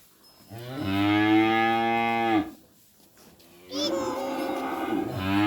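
Two long, loud cattle moos close by, the first harmonic and drawn-out, then a short pause before a second rougher bellow.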